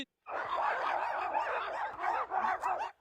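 Person barking like a dog in a barking contest, a continuous run of loud, rough yapping barks with a few quick repeated yelps toward the end, close and unaccompanied by other talk; a human voice imitating a dog.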